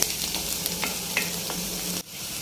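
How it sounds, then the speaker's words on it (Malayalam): Ginger sautéing in a pan for Kerala beef roast gives a steady close sizzle with faint stirring scrapes, cutting off abruptly near the end; no voices. "ഇഞ്ചിയുടെ പച്ചമണമൊക്കെ ഒന്ന് മാറി നല്ല രീതിയിലൊന്ന് വഴറ്റിയെടുക്കാം"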